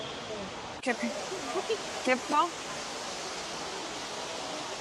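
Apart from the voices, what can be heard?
waterfall in the city near Seoul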